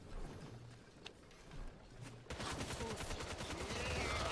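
Gunfire from units in the real-time strategy game Tooth and Tail, starting as sparse pops under low game sounds and then breaking into a dense, steady volley of rapid shots that carries on to the end.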